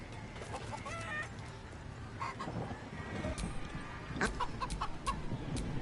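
Chickens clucking and squawking in Baldur's Gate III during a chicken-chasing game, a run of short, sharp calls scattered over a steady ambient background, several bunched near the end.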